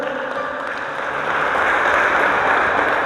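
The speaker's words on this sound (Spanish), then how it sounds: "Un fuerte aplauso a la palabra de vida eterna" Congregation applauding in a church, a broad wash of clapping that swells and holds steady for several seconds with no voices on top.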